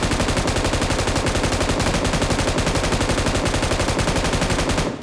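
Rapid automatic gunfire from shooting in PUBG Mobile, a loud continuous burst of evenly spaced shots running nearly the whole time before cutting off at the end.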